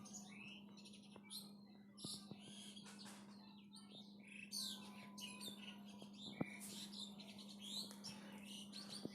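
Birds chirp and call outdoors while stinging catfish curry is cooked, a busy scatter of near and distant tweets and squawks over a steady low hum.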